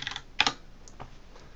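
Several quick keystrokes on a computer keyboard, a short cluster of crisp clicks followed by a few lighter, more spaced taps, close and alone.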